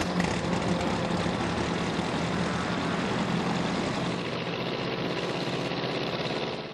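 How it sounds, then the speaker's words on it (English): A race airplane engine starts and runs at a steady, loud, dense roar for the whole stretch, with no change in pitch or rhythm. "I like to start the airplane when they give me about 7 minutes to take off."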